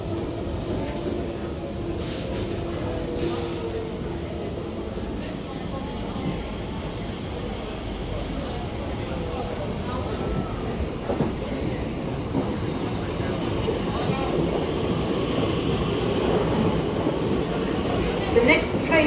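A passenger train at Stratford station in London rumbles steadily throughout, with a low continuous rolling drone and faint rail clatter that grows slightly louder toward the end.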